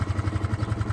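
A 2006 Honda Big Ruckus PS-250 scooter's carbureted engine idling after a cold start, a close, steady low chugging pulse of rapid even thumps.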